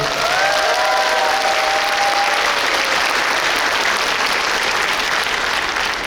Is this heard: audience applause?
yes